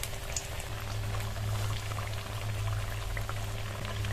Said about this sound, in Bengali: এই আলুটা আর একবার আমি তেলের মধ্যে দিয়ে ভেজে নেব।